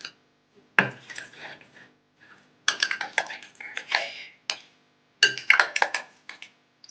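Spoon clinking and scraping in a bowl while chicken is mixed with its marinade, in several close bursts of sharp metallic taps and wet stirring separated by short silences.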